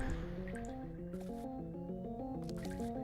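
Water drips in a flooded dungeon in the video game Majora's Mask, quick wet plinks falling over steady tonal background game music with no talking.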